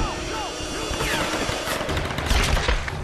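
Rapid gunfire barrage in the Tomb Raider game, dense bursts of shots and booms stacked over a steady rumble, continuous and loud throughout with faint voice mixed in.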